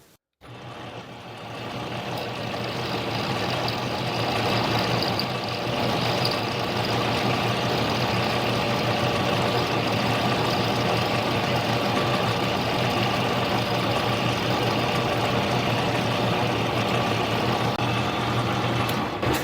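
A mini lathe turns and cuts non-ferrous metal in a workshop, a continuous whirring motor drone with a hissing cutting noise that starts abruptly and holds steady throughout.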